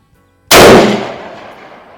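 Single loud rifle shot from a CVA Optima Elite single-shot break-barrel in .243 Winchester, fired outdoors during load testing, a sharp close blast followed by a long, fading rumble of echo.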